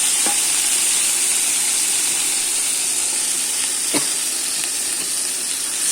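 Black cumin and spices fry in hot oil, a continuous bright sizzle and hiss with a few soft stirring scrapes and clicks, close and fairly loud.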